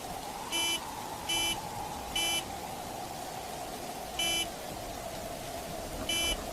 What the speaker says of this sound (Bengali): মনে হলো গাড়ির হর্ন।